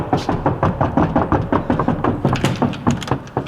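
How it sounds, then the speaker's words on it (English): Rapid knocking on a door, a long rhythmic series of sharp raps, several per second, close and fairly loud with no voices. "That sounds like lots of knocks on the door."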